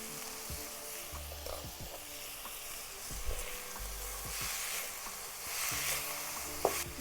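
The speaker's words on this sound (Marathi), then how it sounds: "सगळं चांगले मिसळून घेते मिक्स करून घेते" A chopped wild vegetable, salted, being stirred and fried in a pan: a steady sizzle throughout, with occasional soft scrapes and taps of the spoon against the pan.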